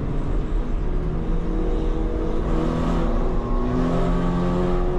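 A race car engine drones and revs steadily on the starting grid at a race start, a sustained loud mechanical whine with shifting pitch and no talk.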